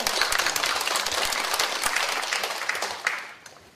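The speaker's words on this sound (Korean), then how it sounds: "박수로 부탁드립니다." An audience applauds a presenter at a conference on women's low-wage work. The clapping is steady and dense, fairly close, and tapers off at the end with no voices over it.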